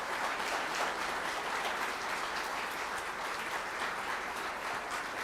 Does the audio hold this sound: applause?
yes